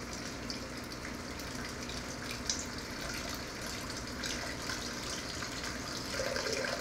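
Water carrying live red cherry shrimp is poured into a shipping bag, giving a soft steady trickle and splash that runs on quietly throughout.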